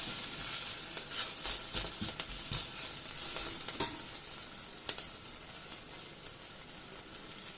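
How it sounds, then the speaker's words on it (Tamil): Onions sauté in a pan for horse gram sambar with a soft, continuous sizzle broken by scraping stirs, heard near and fairly quiet. "வெங்காயம் சேர்த்துட்டு வெங்காயத்தையும் நல்லா வதக்கிக்கோங்க."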